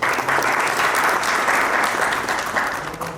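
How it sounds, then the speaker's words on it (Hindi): Audience at a book launch event breaks into loud, dense applause, many hands clapping steadily and close for about three seconds, fading slightly at the end. "जोरदार तालियां होनी चाहिए।"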